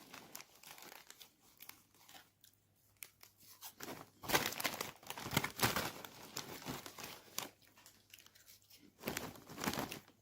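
Bag of Lulu Puffs cheese-flavored chips being opened and handled, irregular crinkling and tearing of the foil snack packet up close, soft but busy throughout.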